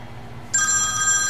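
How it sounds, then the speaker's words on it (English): An electronic telephone ringer trills steadily in a guitar repair workshop, a bright continuous tone that starts abruptly and sustains over a faint background hum. "We'll answer the phone."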